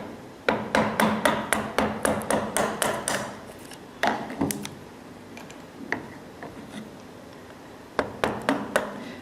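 A chisel driven by a mallet cuts out the last layer of wood in steady rhythmic strikes, a quick run of sharp close knocks, then scattered hits and another short burst, with no talking.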